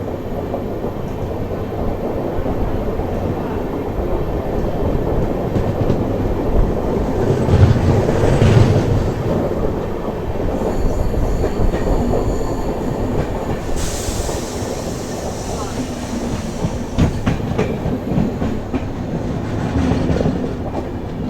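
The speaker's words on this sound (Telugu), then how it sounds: "ఇప్పుడు చూసారు కదా మన ముందు ఒక ట్రైన్ క్రాస్ అయింది కదా, అది India's longest train Vivek express అనమాట" The Vivek Express, India's longest train, running Dibrugarh to Kanyakumari, rolls past nearby in a long, loud, continuous rumble with clattering wheels and occasional squeals.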